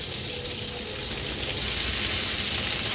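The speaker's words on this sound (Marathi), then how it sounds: "आता मागची बाजू पण आपण मीडियम फ्लेमवर आणखीन एक दीड ते दोन मिनिटासाठी तळून घेऊया" Bombay duck (bombil) fish fry in oil over a medium flame, a steady close sizzle that swells louder partway through and keeps on without any voices.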